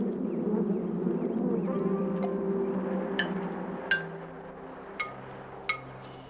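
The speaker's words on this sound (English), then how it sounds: "The bees common in the United States are derived from the Italian honeybee" Honeybees buzz in a low droning hum over the first half, fading as bright glassy clinks ring out at intervals.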